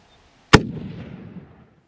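A single loud, close rifle shot from a Tikka Strata fired at a fallow deer in New Zealand, a sharp crack followed by a rumbling echo that fades over about a second.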